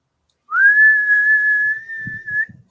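A person whistles a single sustained, steady high tone to imitate a punctured lower intercooler hose on a turbocharged engine. The tone holds for about two seconds, close and clear, with a few faint low thumps near the end.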